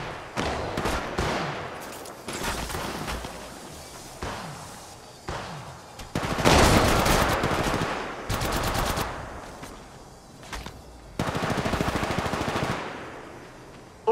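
Bursts of automatic gunfire in Apex Legends Mobile, loud rapid volleys repeating in clusters with short pauses and impact thumps between them.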